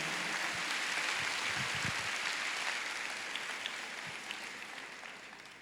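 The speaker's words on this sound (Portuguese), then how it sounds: "Pode aplaudir a palavra, muito mais do que a mim." A church congregation at a Catholic sermon applauds in a dense, even wash of clapping that swells early and then slowly fades over several seconds.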